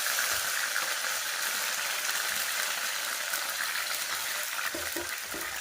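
Curry leaves hit hot oil for a Tamil fish curry, a loud, steady crackling sizzle with bright spattering that stays dense and even throughout, with a few faint clicks of utensils near the end.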